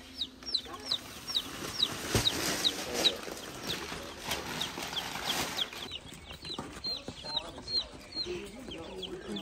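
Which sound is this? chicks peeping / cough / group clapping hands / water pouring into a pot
chicks peeping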